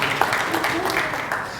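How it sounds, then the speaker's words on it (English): Audience applause at the UJIIS launch event, a steady wash of crowd clapping with voices blended in throughout. "So you can also give me a round of applause."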